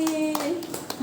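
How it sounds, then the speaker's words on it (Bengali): A group of residents at an old age home in Kalyani, West Bengal, claps hands in a few spaced, crisp bursts, heard close by with voices talking between and over the claps. "সবাই হাততালি দাও একটা করে।"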